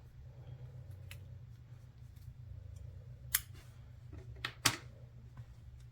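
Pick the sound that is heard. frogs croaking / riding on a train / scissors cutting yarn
scissors cutting yarn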